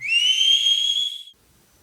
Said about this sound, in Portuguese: Ouvimos um assobio muito forte e muito alto.